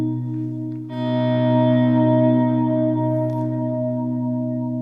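Electric guitar fed through a Helix or HX Stomp effects unit, two fingered notes swelling in from silence into a sustained, shimmering tone with chorus, echo and reverb, held for several seconds.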